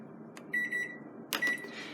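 Two short bursts of high electronic beeping from a kitchen timer, close and clear over a quiet hum.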